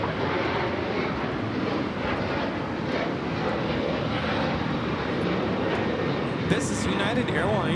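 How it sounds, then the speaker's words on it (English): A United Airlines Boeing 737-900ER takes off, its jet engines producing a loud, sustained broadband roar that holds steady throughout, with faint voices present underneath. "This is United Airlines 1069 taking off to Chicago on the 737-900ER"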